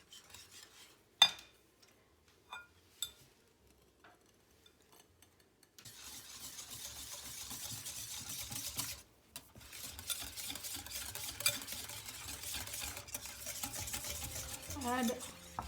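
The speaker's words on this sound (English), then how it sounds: "now you can give it a mix before adding mango pulp" Mango shrikhand, thick strained yogurt with sugar, stirred with a spoon in a bowl: a few faint scrapes, then a steady close run of soft stirring and scraping with a brief pause midway.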